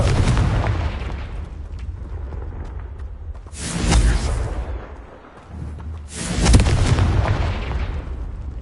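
Confringo fire blasts from Hogwarts Legacy burst out as two loud, close explosions a few seconds apart, each a sudden whooshing boom that rumbles away, over a steady rough background roar.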